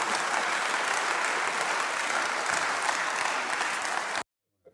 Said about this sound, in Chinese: 所以全场鼓掌